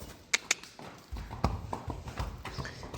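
Horses kept indoors for a farrier's visit: hooves clop on a hard floor, two sharp knocks followed by a looser series of uneven steps, fairly close.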